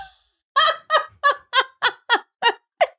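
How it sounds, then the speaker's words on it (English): Ducklings or small fowl in the Peter Rabbit movie calling in a steady series of about eight loud, evenly spaced honking quacks, alone without talk. "Look at her baby duckies."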